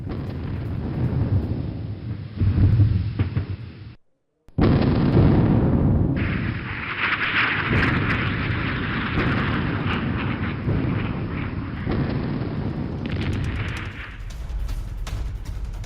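Indian Army artillery brigade guns firing in a show of strength, heavy booming blasts with a brief cut of silence, then sustained loud rumbling and crackling detonations that roll on continuously.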